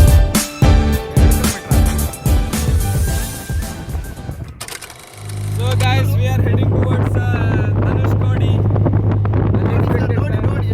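A boat moves along the sea near a causeway road in South India, its steady engine drone rising after a burst of wind buffeting and clatter, carrying on loudly and close with some voices around.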